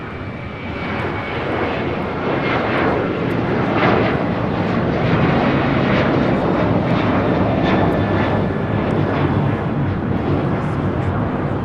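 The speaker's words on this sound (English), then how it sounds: "This is United Airlines 1651 taking off to Chicago O'Hare on a 737-800" United Airlines Boeing 737-800 jet taking off for Chicago O'Hare from LAX, a loud sustained engine roar that holds steady throughout, with faint voices underneath.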